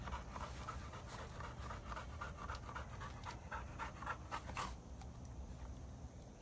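A dog panting rapidly and rhythmically at close range, with quick breathy puffs repeating steadily for several seconds before easing off, no talking.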